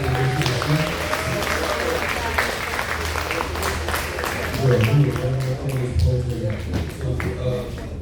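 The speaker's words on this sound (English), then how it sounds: "Let's give a round of applause for them one more time" A crowd at a family reunion gives a sustained round of applause, loud and steady throughout, with voices talking and calling out over the clapping.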